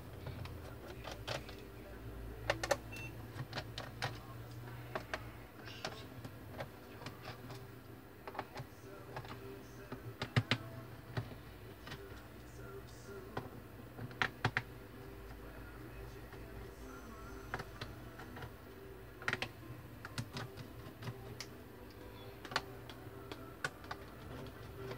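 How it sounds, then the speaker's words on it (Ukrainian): Small bolts being unscrewed from the case of a Dell N5110 laptop, giving quiet, scattered ticks and clicks of a screwdriver at irregular intervals over a faint low hum, with a voice murmuring softly at times. "Відкручуємо всі болти, які є в нас в корпусі."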